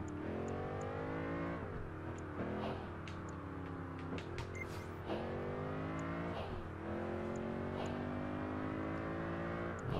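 A powerful car engine in Project Gotham Racing 4 on Xbox 360 roars steadily and close, with repeated rising revs and gear shifts throughout, no talk over it.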